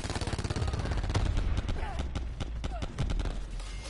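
Rapid gunfire in the video game Black Ops 4, a steady run of sharp automatic shots in quick bursts, loud and close, with a brief lull near the end.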